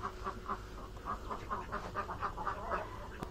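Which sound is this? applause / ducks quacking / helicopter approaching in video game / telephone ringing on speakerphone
ducks quacking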